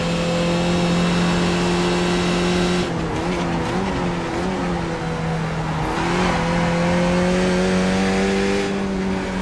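A Skip Barber race car engine in a virtual racing sim drones loudly and steadily, its pitch dipping and rising through gear changes and corners, with faint tire squeal, close and continuous.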